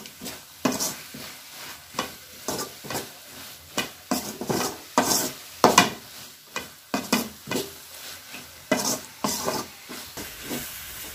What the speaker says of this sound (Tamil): அந்த எண்ணெயிலே நல்லா அப்படியே வதங்கி வருது